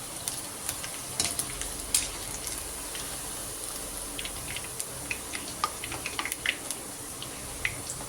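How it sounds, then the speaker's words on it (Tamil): Mushroom pieces deep-frying in hot oil, roadside-stall style, give a steady hiss with scattered crisp pops and crackles throughout, close and even. "இதே மாதிரி பொரிச்சு எடுத்து வச்சுக்கோங்க எல்லாத்தையும்."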